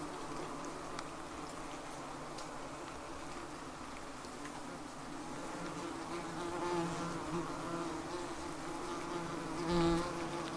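Yellow jacket wasps around a large nest being removed and dissected produce a continuous, dense buzzing that stays fairly faint and steady with occasional closer passes, and no talk.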